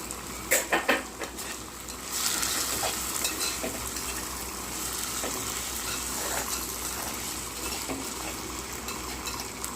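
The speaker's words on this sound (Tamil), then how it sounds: "அதுக்கப்புறம் அந்த தக்காளியும் போட்டு நல்லா வதக்கி எடுத்துடலாம்." Onion, green chili and tomato sauté in a pan with a steady close sizzle, opening with a few sharp clinks of a utensil and then soft stirring scrapes under the constant frying hiss, no talking.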